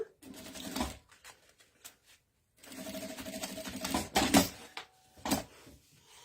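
A sewing machine backstitches across the end of a bag strap, bursts of rapid mechanical stitching broken by short pauses, close and alone with no talk.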